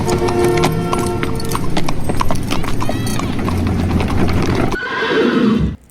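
A horse's hooves clop loudly and steadily while it gives a whinny, heard close in an indoor scene from The Sopranos before the sound cuts off abruptly.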